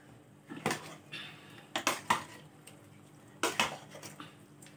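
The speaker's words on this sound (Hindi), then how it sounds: "अब इसे हम अच्छी तरह से मिला लेंगे।" Chicken marinade being stirred and mixed in a bowl, heard as a run of clinking, scraping utensil strikes against the dish that come in short clustered bursts, close and fairly quiet, with no talking.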